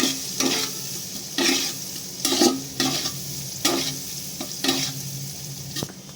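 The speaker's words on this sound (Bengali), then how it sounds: "পাতিলেবুর রসটা দিয়ে ভালো করে আমরা মিক্স করে নেব।" Rice being stirred with lime juice in a hot pan for veg fried rice, a series of rhythmic scraping stirs about once a second over a soft constant sizzle, close and fairly loud.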